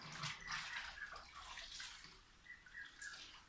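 Water runs steadily into the tub of a Mika 6kg semi-automatic top-load washing machine set to its low water level, a near splashing and gurgling pour with a few drips.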